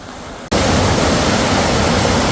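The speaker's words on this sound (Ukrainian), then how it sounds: "Перше це водоспад Женецький гук." Zhenetskyi Huk waterfall in the Carpathians rushes in a loud, steady roar of falling water, starting abruptly after a quieter half second and continuing close and unbroken.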